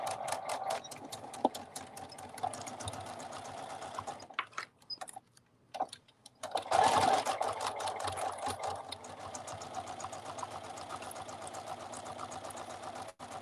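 A sewing machine stitches bunny ears in a steady, rapid mechanical whir, close and moderately quiet, pausing briefly in the middle before starting up again and running on.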